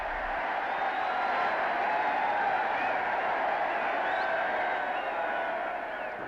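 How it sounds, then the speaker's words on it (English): A large crowd below the palace balcony cheers Queen Elizabeth II at her coronation, a dense, steady roar of many voices that holds at an even, loud level throughout with no single voice standing out. "Later, they joined her on the balcony to acknowledge the crowds."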